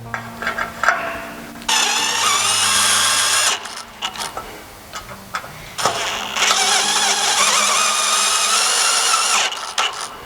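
Power drill driving 1 1/4 inch self-tapping painted screws into a metal post mount bracket, two sustained high whirring runs of about two and four seconds, with short clicks and handling noise between them.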